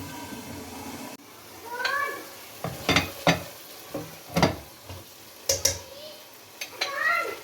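Chickpeas and yogurt frying in a pot over a medium-low flame, with a soft sizzle under intermittent scraping and stirring clinks of a spoon against the pot, fairly quiet and close.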